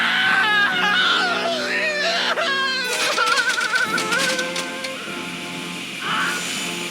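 Wilhelm scream in the Tales of Monkey Island video game: a loud, shrill, wavering cry rises and falls over busy game sound and music, sounding close and overbearing.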